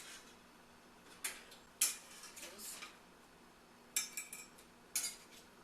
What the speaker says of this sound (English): Now we'll add our Salisbury steak to this really nice little plate here, and we'll just slowly scoop them out one by one